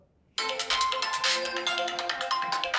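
A smartphone ringtone set off remotely by an oraimo Watch 2 Pro's find-phone feature, starting abruptly after a short silence and playing loud and steady as a bright, repeating melodic tune with no talk over it.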